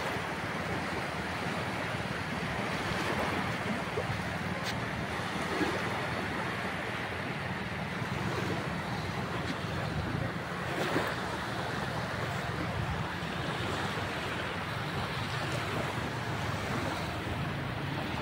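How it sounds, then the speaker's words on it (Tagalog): Rough sea waves wash continuously onto the shore at the Blue Lagoon beach resort, a broad steady roar of surf mixed with wind buffeting the microphone. "Maalon, no?"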